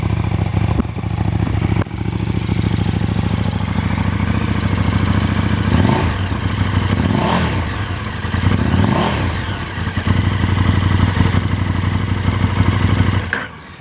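2017 KTM 1290 Super Duke R motorcycle engine idling loudly up close, then several sharp revs rising and falling in pitch before settling back to a rumbling idle.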